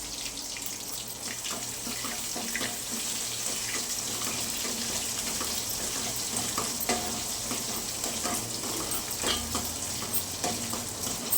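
Mustard seeds, dal and onion frying in a pan, giving a steady close sizzle and crackle with scattered pops and stirring scrapes, with no talk over it.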